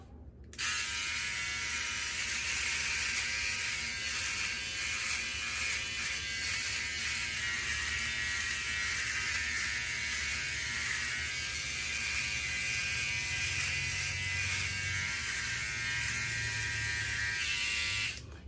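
A Philips OneBlade electric razor buzzes steadily while shaving a beard upward against the grain, a close, continuous high-pitched whir with slight grinding variations as it cuts through stubble.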